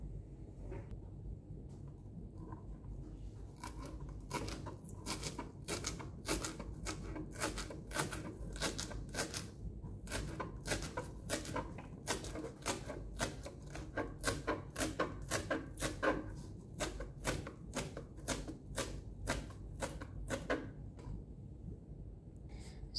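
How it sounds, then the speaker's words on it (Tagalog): A knife finely chops coriander on a board, with quick, steady, close taps that speed into a dense run of cuts before slowing and stopping. "So, gagawin naman natin ang ating coriander. Ipa-finely chop lang din natin siya."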